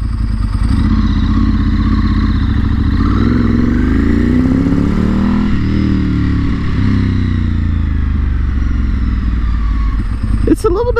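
A Ducati motorcycle engine runs loud and close after a repair, with a steady drone that swells and eases as the throttle is revved, and a brief sharp noise near the end.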